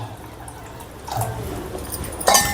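Water splashes and trickles quietly into a cooking pot of sweet corn pulao, with a brief louder pour near the end.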